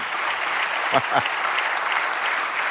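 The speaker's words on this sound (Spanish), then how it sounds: "Denle un aplauso, Señor." A church congregation at a Spanish-language sermon gives a steady, full round of applause that fills the room, with a voice briefly calling out over the clapping.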